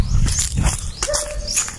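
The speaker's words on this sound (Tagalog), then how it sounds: "Uy, may aso." A dog barks a few times at a distance amid noisy outdoor ambience, with a thin whine or whistle briefly rising above it.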